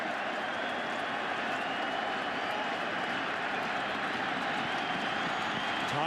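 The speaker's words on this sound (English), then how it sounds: "And now this crowd serenades Guerrero." A baseball crowd at a 2009 American League Championship Series game involving the Angels chants and roars steadily, a dense, sustained wall of voices that holds without a break.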